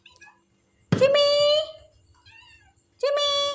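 A cat meows loudly and close by, two long drawn-out cries separated by a pause, with a brief faint vocal sound at the start and a quieter murmur between the meows.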